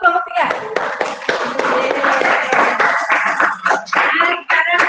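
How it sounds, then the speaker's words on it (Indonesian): A classroom group claps for group 3, a dense burst of hands applauding mixed with voices talking throughout. "Kita kasih aplaus untuk kelompok 3."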